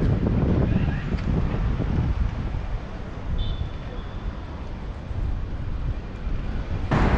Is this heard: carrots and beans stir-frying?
no